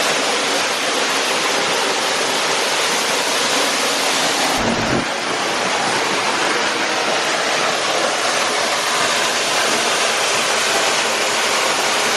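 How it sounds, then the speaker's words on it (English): Waterfall in Malawi heard from underneath: a loud, constant, broadband roar of crashing water with a brief low thump midway, no voices. "Made a little detour to get underneath the waterfall."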